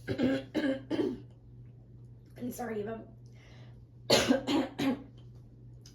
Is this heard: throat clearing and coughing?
yes